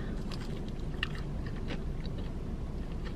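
Someone bites into and chews a breaded Cantina Crispy Chicken taco from Taco Bell, with soft crunching and chewing sounds that are close and quiet over a faint steady background.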